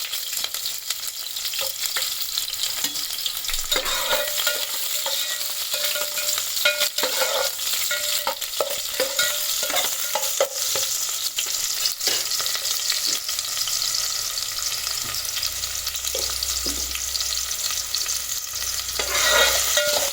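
Sliced onions frying and sizzling in a pan while being stirred, cooking for a mutton curry and bagara rice; a steady sizzle runs throughout with scattered scraping clicks from the stirring.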